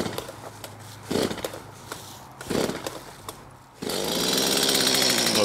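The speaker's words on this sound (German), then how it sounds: "wir müssen die Säge eventuell ein bisschen länger mal durchziehen, bis der Vergaser mit Sprit gefüllt ist." Gasoline chainsaw with its carburetor filling with fuel. Two rasping starter-cord pulls come first, then the engine catches and runs on as a loud, steady, close buzzing drone while it warms up.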